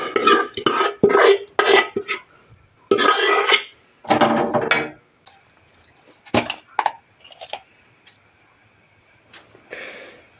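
Dosa batter is poured into a vessel amid clattering pots, heard as several sharp bursts of metal clanks and scraping, close and loud, separated by short quiet gaps.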